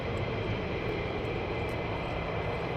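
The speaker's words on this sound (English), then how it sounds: "So these free ship are now taxiing to runway 24." Military jets taxi toward the runway at RAF Lakenheath, a continuous distant engine roar and whine holding steady at moderate loudness, with no talking.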